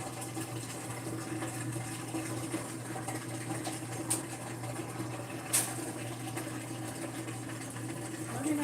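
A steady mechanical hum with a low drone runs throughout, like an appliance motor churning at moderate volume, with a couple of brief clicks.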